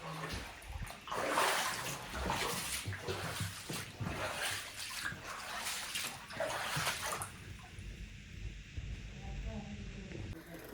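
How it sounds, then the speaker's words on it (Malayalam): Floodwater sloshes and splashes inside a flooded house in the UK, a close, irregular churning with gusts of wind noise over the microphone. The water quietens toward the end. "ഇനി ഞങ്ങളുടെ മെയിൻ ഹാളിൽ അതിൻ്റെ ശബ്ദം കേട്ടാൽ നിങ്ങൾക്ക് മനസ്സിലാവും എത്രമാത്രം വെള്ളം ഉണ്ടായിരുന്നു എന്ന്"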